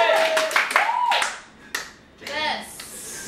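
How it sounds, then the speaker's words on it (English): A few sharp hand claps and cheers from a small group break out between excited talking and whooping, sounding close and short-lived. "Applause, everybody!"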